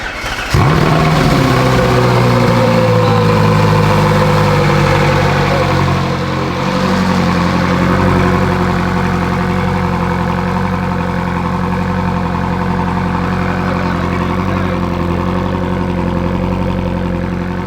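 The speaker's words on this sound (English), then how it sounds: "This car hasn't been started in 5 months." A Ferrari 458 Italia engine, unstarted for five months, starts and settles into a loud, steady idle that rumbles continuously, close by, with no talking.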